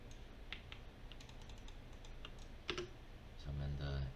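Scattered computer keyboard keys click at an uneven pace, soft and close, with a firmer press near the end and a low hum beneath.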